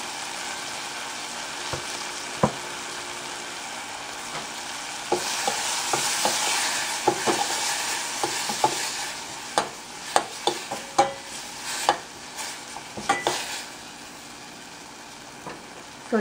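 Soft, continuous sizzling of garlic rasam ingredients sautéing in a pan with turmeric powder, punctuated by scattered clinks and scrapes of stirring that grow busier toward the end.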